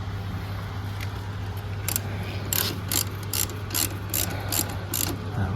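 A ratchet wrench loosens the rear exhaust mount bolts on a Honda CB1300 motorcycle: a run of close, crisp clicking bursts in a regular rhythm over a low steady hum, with no talk.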